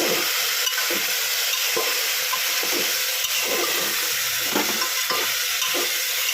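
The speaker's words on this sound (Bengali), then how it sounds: "অল্প করে হলুদ গুঁড়ো দিয়ে এবার নাড়বো।" Curry with turmeric is stirred in a pan: a steady sizzle of frying runs throughout, broken by repeated scraping strokes of a spoon at an uneven rhythm, with no talking.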